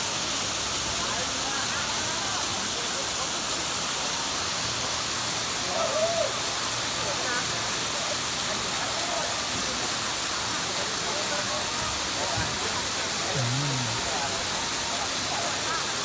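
A small waterfall at a jungle cafe near Mon Jam in Chiang Mai pours a steady, even rush of water that fills the whole stretch, with faint brief sounds rising above it now and then.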